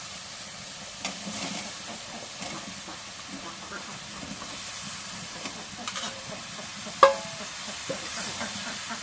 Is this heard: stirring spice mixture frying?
yes